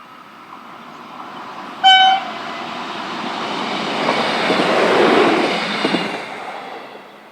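ATR 115 diesel unit 003 leaving Provaglio Timolina southbound for Brescia gives one short, loud horn toot early on, then its engine and wheels swell as it passes nearby and fades.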